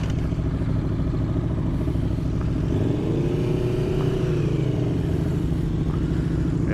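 Aprilia Tuono V4 motorcycle engine idling loud and close with a deep, lumpy rumble, then a brief rev that rises and falls before settling back to idle.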